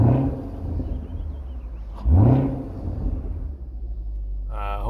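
A 2020 Chevrolet Camaro SS with a V8 engine, still being broken in, rumbles at idle and gives a short rev that swells and fades, the steady engine drone continuing throughout.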